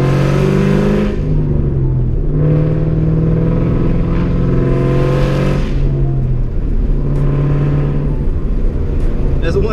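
Mustang Cobra engine fitted with a BBK off-road X-pipe and tuned, revving loud and close in repeated surges, rising and falling with rough low exhaust rumble and no talk.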